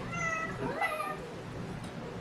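A cat meows in one drawn-out, rising call, then goes quiet against low room noise.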